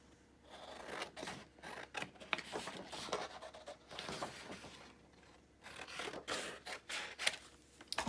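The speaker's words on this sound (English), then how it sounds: "I'm gonna fussy cut these really quick" Scissors snip repeatedly as paper Christmas journal pieces are fussy cut, quiet close crisp snips and rustling paper in an irregular rhythm with short pauses.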